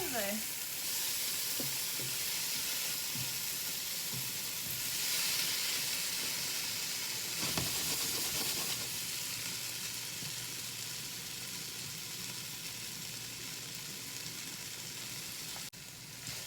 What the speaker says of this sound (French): On ne veut pas bouillir les crevettes non plus, on veut juste vraiment les saisir.